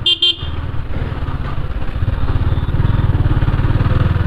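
Motorcycle riding through a narrow town lane, engine thrumming steadily and close, with a short horn toot right at the start, no talking over it.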